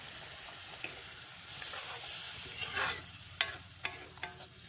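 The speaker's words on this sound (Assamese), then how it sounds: "এনেকৈ কৰি মই ভাজি আছোঁ।" Radish sizzles and is stirred in a pan for a fish curry, soft steady frying with scraping stir strokes and a few sharp utensil taps, close and without talk.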